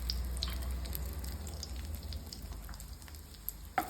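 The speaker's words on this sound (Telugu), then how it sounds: "అదే నూనెలో కొంచెం ఆవాలు, బిర్యానీ ఆకు, చెక్క, 2-3 లవంగాలు వేసుకున్నాను." Mustard seeds, a bay leaf, cinnamon stick and a few cloves fry in hot oil with a steady close sizzle, a faint patter of popping seeds and a sharper crackle near the end.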